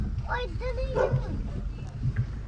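A nearby dog gives yelping, whining barks mixed in with people talking close by.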